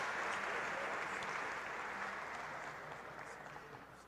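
A church congregation applauds during a Portuguese-language worship service, a dense, steady wash of clapping from many hands that holds throughout and fades slightly toward the end.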